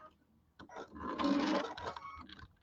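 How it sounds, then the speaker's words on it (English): A sewing machine with a J-foot runs a quarter-inch piecing seam in a short, quiet burst that swells and fades within a couple of seconds. "we're just going to sew our 1/4-inch seams"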